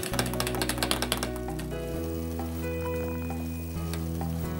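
Grapefruit peel pieces blanching in a pot of boiling water, a loud bubbling, sizzling rumble with rapid crackles at first that settles into a steady churning boil.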